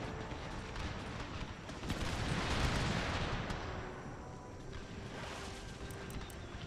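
Distant rumbling volleys of 3-pounder cannon fire in the Empire Total War battle game, with overlapping booms and rolling artillery bursts at moderate volume and no speech.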